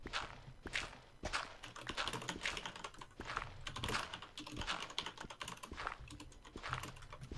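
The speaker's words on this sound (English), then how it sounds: "Stop typing, Cade." Rapid bursts of computer keyboard typing, quiet and close, clacking in uneven clusters with brief pauses, heard alone without speech.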